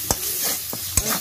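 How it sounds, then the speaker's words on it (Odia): Spice masala with fenugreek, garam masala and salt frying in a pan for a village-style mixed vegetable curry, a couple of sharp spatula scrapes over a close, steady sizzle. "ଅଳ୍ପ ସମୟ ଏମିତି ମସଲାକୁ କଷିବ, ଲାଗିଯାଉ।"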